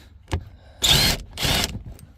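A power tool unscrews fasteners on the front end of a 2017 Ford Focus: a short tap, then two close bursts of whirring motor, each about half a second long with a brief gap between them.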